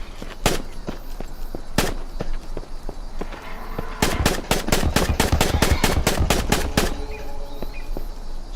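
Sharp rifle shots from a 30-round rifle in Island Survival, first scattered single cracks, then a fast rapid string of about a dozen loud reports, close and clear with little talk.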